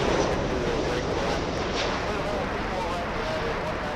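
Broadband jet roar of a Boeing 787 airliner on the runway at LAX, a steady, loud rumble that holds constant throughout, with a person speaking faintly underneath.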